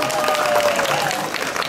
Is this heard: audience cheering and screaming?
yes